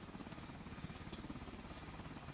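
A helicopter engine and rotor in a video game drone steadily with a fast, even chopping pulse that stays faint and unbroken throughout, with no voices.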